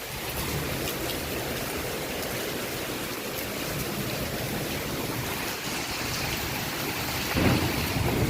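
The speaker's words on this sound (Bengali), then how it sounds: "মনে হচ্ছে যে অনেক বৃষ্টি" Heavy rain pours steadily onto a balcony and flooding street, with thunder rumbling low beneath the downpour and a brief louder surge near the end.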